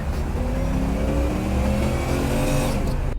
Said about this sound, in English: shifting gears and putting his foot down, and that car just accelerates to get there as quick as he can